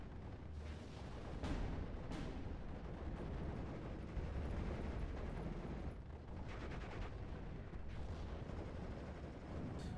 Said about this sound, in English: He's bombarding my artillery unit. There's mortar.